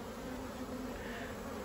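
Honey bees buzzing around nucleus hives outdoors, a faint continuous hum of many foragers with no talking.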